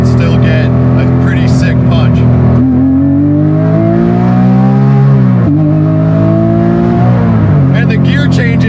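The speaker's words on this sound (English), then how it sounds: "I haven't hit this car wide open throttle in a couple weeks, and that felt amazing" Porsche 911 engine pulling hard at wide open throttle, a loud, steady sustained tone rising in pitch through the rev range, with a brief dip around a gear change before climbing again, heard close.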